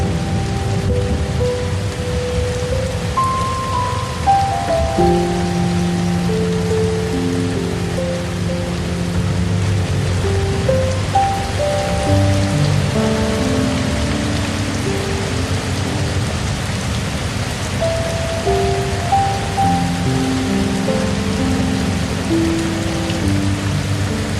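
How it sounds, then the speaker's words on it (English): Steady rain pours down continuously at night in a Costa Rican rainforest, a dense hiss of falling water with scattered brighter tones threaded through, with no voices. "as the rain continues to fall."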